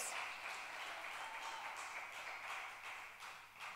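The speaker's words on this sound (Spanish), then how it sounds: "El aplauso más fome que he oído." A church congregation gives a faint, sparse round of applause, thin scattered claps at a steady low level for a few seconds with no voices.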